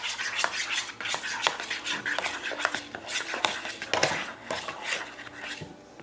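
A homemade slime mixture is stirred fast in a bowl, giving a busy run of clinks, scrapes and knocks from the utensil against the container. The sound is close and steady, with no speech.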